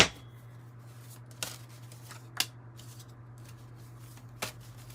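Tarot cards are handled and shuffled close by, giving a few soft, crisp riffles and snaps over a quiet, steady background hum.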